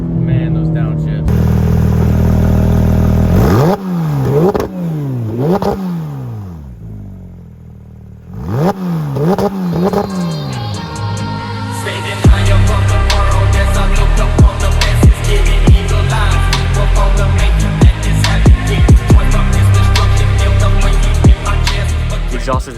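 A Porsche GT3 RS with a Valvetronic Designs exhaust revs in sharp repeated blips, dropping and rising as it downshifts, then settles into a loud, sustained roar close by.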